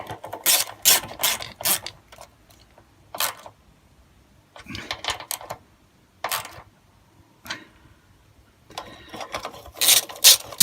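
A ratchet socket wrench works bolts on a Honda HRH536 lawn mower, with close, rapid bursts of clicking ratchet strokes separated by short pauses, with no talk.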